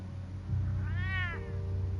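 A cat in the Batman Telltale game lets out one clear, drawn-out meow over a low steady hum, close and distinct.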